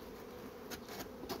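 Honeybees buzz at an open hive, a dense steady drone close by with a few brief louder swells as bees pass near.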